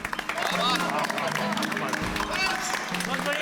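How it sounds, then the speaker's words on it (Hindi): A small group of people claps together in a sitcom scene, a dense, steady patter of applause mixed with voices talking over it throughout. "ताली क्या बजाते हो?"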